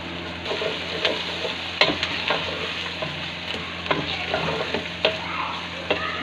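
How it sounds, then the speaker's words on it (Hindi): Garlic and ginger paste sizzles with browned onions in a pan while karela is being cooked, giving a constant frying hiss broken by occasional stirring scrapes and clicks, with no voices over it. "अब हम इसके अंदर लहसुन और अदरक"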